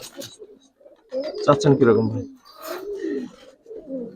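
Giribaz pigeons cooing close by in soft, rolling bursts, several overlapping coos with short quiet gaps between them.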